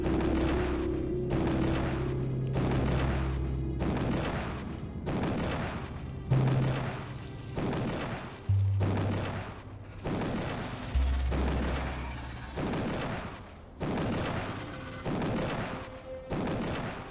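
Artillery in the Factorio video game fires in a steady series of about a dozen loud booming volleys, each one a rapid burst of several shots, with a low game hum running underneath.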